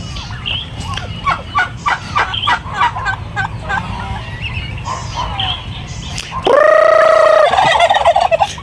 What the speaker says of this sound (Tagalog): ito mga pabo talaga oh